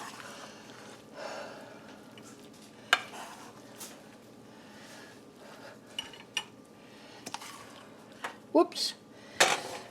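Pork noodle stew being ladled into a bowl with clinks of a spoon against pot and dish, soft scraping and a few sharp taps, with a voice speaking briefly.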